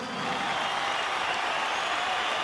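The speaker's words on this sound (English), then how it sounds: "a round of applause for 2 boxers who gave their all" A packed boxing crowd applauds after a 168 lb British title bout, the Liverpool derby between Tony Quigley and Paul Smith, a dense, steady wash of clapping filling the hall at constant loudness.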